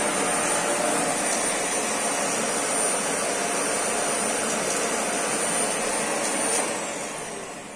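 A Samsung SC52U6 canister vacuum cleaner runs at full power close by, a steady loud broadband roar with a high whine that holds for several seconds before tailing off slightly at the end.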